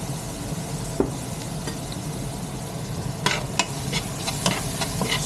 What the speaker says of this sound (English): Stir it up